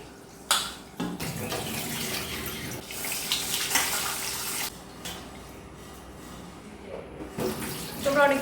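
Tap water runs steadily in a home kitchen sink while rice is rinsed, a continuous splashing hiss with brief surges and clatters, moderately close, with no talk over it.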